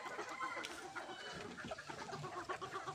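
Gamefowl chickens on a game farm cluck and murmur steadily in a busy, fairly faint background, with no voices over it.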